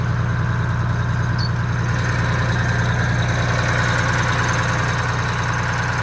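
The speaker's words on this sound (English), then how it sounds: "This is the engine." Steady low rumble of a car engine idling nearby, constant and even throughout with a faint mechanical knock beneath it.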